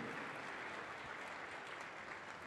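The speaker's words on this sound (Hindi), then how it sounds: "ताली बजाओ परमेश्वर के लिए" A church congregation clapping together, a dense, steady wash of applause heard from a moderate distance and fairly quiet throughout.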